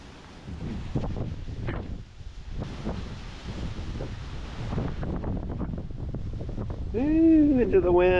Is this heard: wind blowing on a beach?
yes